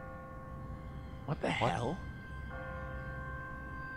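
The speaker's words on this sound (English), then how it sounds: "It's a church bell." A church bell rings in The Walking Dead video game as sustained, steady tolling tones beneath a short, startled spoken line.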